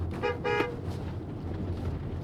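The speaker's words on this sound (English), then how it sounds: "I just gave Stephanie a little honk" Two short Tesla car horn toots in quick succession, fairly close, over a steady low engine hum.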